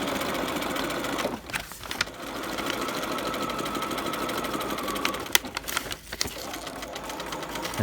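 A sewing machine stitching a seam in sheer fabric, a close, steady rapid whirr running almost continuously with a couple of brief dips and small clicks between passes.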